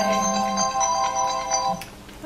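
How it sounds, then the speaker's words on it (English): An alarm rings with a repeating electronic tone pattern, moderately loud, in a home setting. "You can hear the alarm going off."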